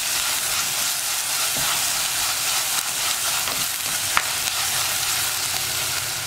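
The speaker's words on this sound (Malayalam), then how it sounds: "ഇതെല്ലാം ചേർത്ത് നന്നായിട്ടൊന്ന് ഇളക്കി" Onions and split green chillies fry in a pan for a Kerala fish curry, a loud, steady sizzle and hiss with occasional stirring clicks throughout.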